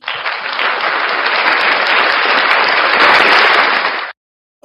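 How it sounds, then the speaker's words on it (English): Loud, dense clapping from a party audience, a continuous close wash of many hands lasting about four seconds before stopping abruptly into silence. "Clap for me, I clap for you."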